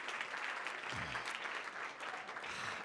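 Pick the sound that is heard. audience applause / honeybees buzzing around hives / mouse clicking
audience applause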